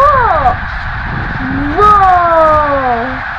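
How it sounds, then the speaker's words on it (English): Snow geese in a large migrating flock calling overhead, a dense run of loud, overlapping honking cries with gliding tones that carry on continuously. "Look at all of those birds."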